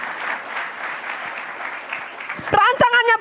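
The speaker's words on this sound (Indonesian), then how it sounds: "Oh tepuk tangannya lebih dahsyat lagi." An audience claps in a church service, a dense ongoing applause throughout, with a preacher's voice breaking in over it toward the end.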